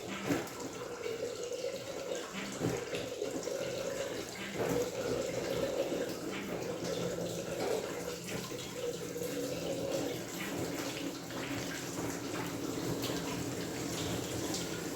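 Water drains from a Ferguson TE20 tractor radiator, pouring and splashing steadily onto a hard floor, a continuous gushing flow that keeps running throughout, close by and without talk.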